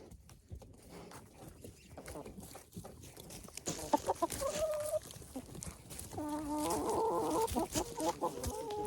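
Backyard chickens cluck close by in a series of short calls that grow denser and louder toward the end, over a soft outdoor background with no voices.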